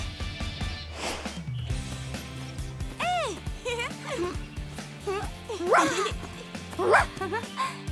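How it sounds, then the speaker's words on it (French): Cartoon dogs at a dog party in a park bark, yip and whimper in a string of short, close calls, with animated voices talking over and between them. "j'organise une fête canine pour Praline, ainsi que tous ses amis chiens."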